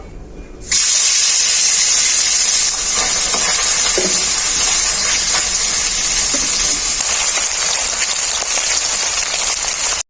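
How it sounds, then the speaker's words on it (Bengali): Sea mourala fish dropping into hot mustard oil sets off a loud, steady sizzle that starts abruptly just under a second in and holds strong to the end, with no talking. "তেলটা খুব ভালোভাবে গরম হয়ে গেছে মাছগুলো আমি ভেজে নেব"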